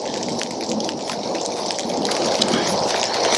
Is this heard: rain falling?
yes